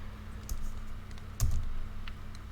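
Keys tapped on a computer keyboard while typing a game command, a few scattered soft clicks with one louder thump near the middle, faint and close against a low steady background hum.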